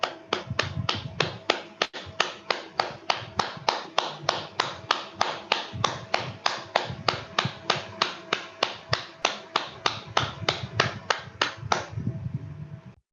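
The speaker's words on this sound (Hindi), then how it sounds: "तो हम सब ताली बजाएं ताकि हमारे संपूर्ण शरीर में जो ऊर्जा है" A group claps hands in unison at a steady, even beat, roughly three claps per second, sharp and close, continuing for over twelve seconds before stopping, with no talking over it.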